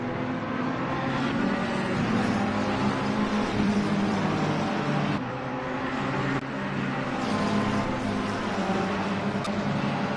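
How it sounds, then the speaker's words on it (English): Race cars on the Imola circuit in a racing game sweep past at speed, a continuous loud roar of several engines with slight swells as cars go by, no talk over it. "Another bunch of cars come flying past"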